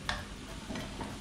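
A frying pan tossed on the stove while cooking peperoncino, a quick clatter and scrape of the pan over a soft, continuous oil sizzle.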